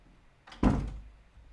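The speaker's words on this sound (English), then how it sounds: "Sorry if you hear any slams. That is the roommate." A single solid door slam, a sharp thud with a brief rattling tail, from a roommate heading out, heard at moderate distance in an otherwise quiet indoor room.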